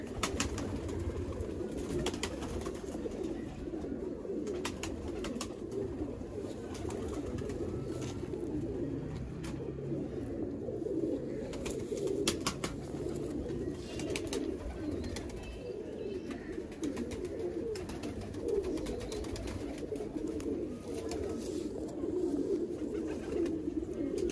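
Red-eyed pigeons, an A-class breed from the Sialkot border area, coo in a continuous layered chorus of soft, low rolling calls, close and steady throughout.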